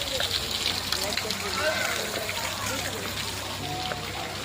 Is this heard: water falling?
yes